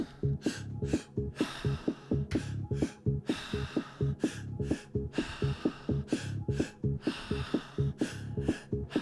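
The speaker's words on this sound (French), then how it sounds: "2 inspires par la bouche, une expiration par la bouche" Rapid breathwork with two quick inhales and one exhale through the mouth, close and loud, repeating in a fast steady rhythm over a low pulsing beat.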